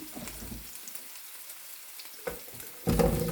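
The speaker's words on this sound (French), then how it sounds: "j'ai fait revenir mes oignons. Je vais venir ajouter mes pommes" Potatoes tumble into a pan of sautéed onions, with a low background crackle and a couple of clatters before a louder sizzling burst rises near the end.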